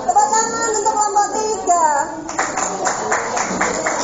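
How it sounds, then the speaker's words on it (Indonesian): Classroom clapping for a student group during a science practical, a burst of many hands that starts partway through and keeps going after a child and a teacher have been talking. "Tepuk tangan untuk kelompok"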